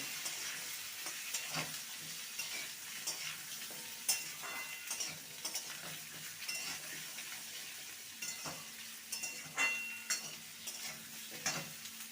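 Vegetables fry in a pan for a spinach ghonto, a steady low sizzle broken by scraping stirs and occasional clinks of a spatula against the metal.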